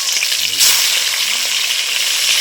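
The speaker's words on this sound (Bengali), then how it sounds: "তেল গরম হয়ে গেছে, মাছের মাথাগুলো ভেজে নেব।" Bhetki fish heads frying in hot oil in a wok, a loud, dense hiss of bubbling oil, steady and close with a brief surge of crackling partway through, no talk.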